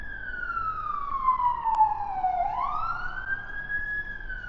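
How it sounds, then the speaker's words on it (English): An ambulance siren wails outside, its tone sweeping down and then back up in a long, steady cycle, heard alone with no talk over it. "So there's an ambulance going off now."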